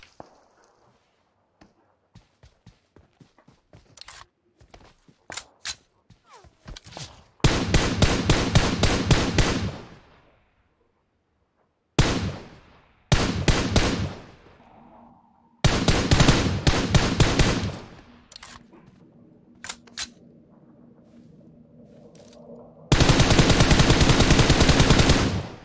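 Gunfire in PUBG Mobile, mixing single sharp shots with several long, loud automatic bursts that cut off abruptly, separated by quieter gaps.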